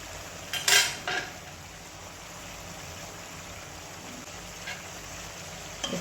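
Besan (gram flour) curry gets stirred and turned in a pan, with a couple of sharp utensil scrapes and clinks near the start, then a steady soft bubbling simmer and faint scraping, no talking.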